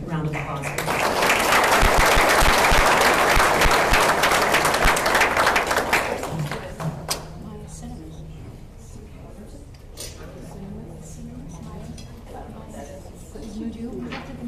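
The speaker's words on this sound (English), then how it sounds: "We could give them one more round of applause" Audience at a city State of the City address breaks into loud, sustained clapping for the award presenters, swelling for several seconds and then tapering off as voices and quieter room sound take over.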